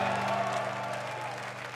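A carnival-club audience at a Fastnacht session claps and cheers in a dense, steady roar, with a sustained musical drone underneath, slowly thinning toward the end.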